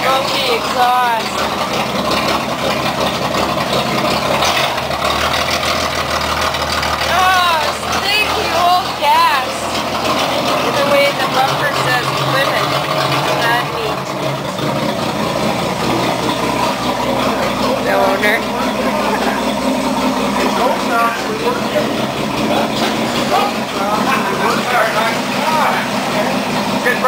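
A 1966 Plymouth Fury II engine runs steadily after start-up, a continuous loud drone with a smoky exhaust and apparently no muffler, under ongoing talk from people nearby.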